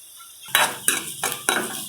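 Onion, green chilli and carrot pieces frying in a pan, with four sharp scraping stirs of a utensil over a steady close sizzle.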